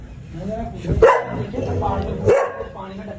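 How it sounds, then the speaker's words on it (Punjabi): A dog barks twice with sharp yelps, about a second apart, mixed in with people talking nearby during a heavy storm. "ਇਹ ਕਿਹੜੀ ਡੱਬੀ ਭੌਂਕ ਰਹੀ ਨਾ, ਆਹ ਦੇਖੋ ਅੰਦਰ ਖੜੀ ਹੋਈ"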